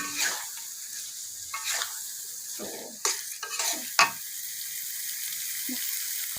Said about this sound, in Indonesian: Ini kita tumis sampai benar-benar lebih matang lagi.